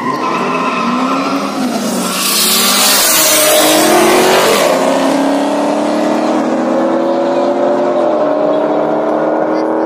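A BMW launches at the start line of the King of Poland 2019 street-class drag race: a loud engine revs up and climbs in pitch with tire squeal, while a voice is heard alongside it.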